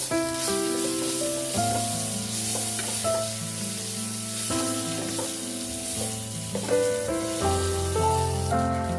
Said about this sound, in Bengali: এই তেলের মধ্যে ছেড়ে দিচ্ছি দিয়ে ভালো করে একটু ভেজে নেব লাল লাল করে আলুগুলোকে